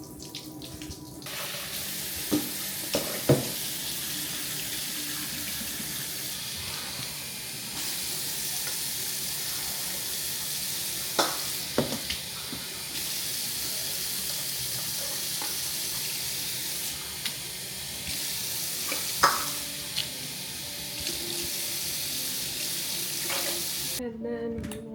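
Rice rinsed in water for a simple high-protein meal, a steady run of tap water and sloshing over about twenty-five seconds, with a few sharp clinks and knocks against the bowl along the way.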